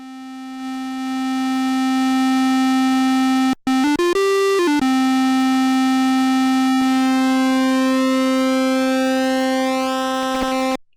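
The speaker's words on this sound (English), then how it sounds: "let's move on to the square wave." A steady, bright Arturia MicroBrute square-wave synthesizer tone holds one pitch, briefly cutting out and jumping to a higher note before dropping back, then sustaining until it stops.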